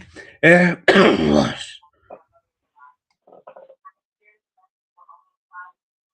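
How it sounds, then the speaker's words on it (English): A loud burst of harsh coughing and throat clearing, followed by a few faint, scattered clicks and small noises in near silence. "I just had a bit of a coughing fit there"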